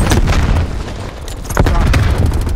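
A frag grenade detonates with a heavy, booming blast amid ongoing gunfire in Call of Duty Black Ops Cold War on PS4, loud and close, followed by a second burst of rumbling explosions.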